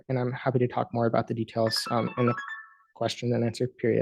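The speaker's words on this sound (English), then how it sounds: "Sorry, that was my phone." A mobile phone ringtone chirps in short tonal bursts behind a man giving a scientific talk on biomarkers of organ aging and Parkinson's disease, mostly masked by his continuous speech.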